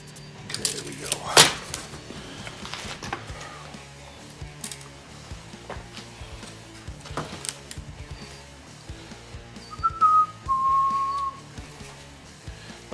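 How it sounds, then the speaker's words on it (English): A man whistles briefly near the end, a short clear tune over clanks and tool noises in a workshop where a frame rail for a 1970 Dodge Challenger is being fabricated. "I better be careful when I'm whistling."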